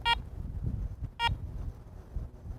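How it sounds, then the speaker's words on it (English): Two short electronic beeps about a second apart, sharp and clear over faint low background rumble: the power-on beep of a Garrett ACE 400 metal detector. "To power on the detector, simply press the power button."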